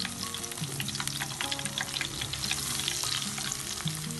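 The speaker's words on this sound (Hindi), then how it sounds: "इसी तरह हमने फ्राई करनी है फिश" Masala fish for a Lahori-style crispy fish fry cooks in hot oil, giving a close, dense and steady sizzle with crackling spatter that runs the whole time, with no talk.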